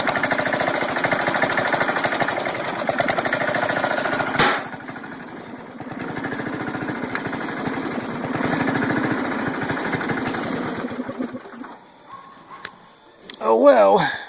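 Small engine of a Cub Cadet or Murray lawn tractor with a carburetor needing cleaning, idling with a steady rough chugging drone that dips briefly, then resumes before fading near the end.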